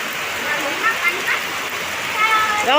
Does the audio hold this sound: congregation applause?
no